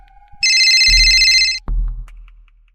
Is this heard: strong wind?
no